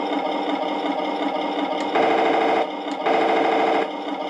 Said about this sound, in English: Okay, the machine gun works.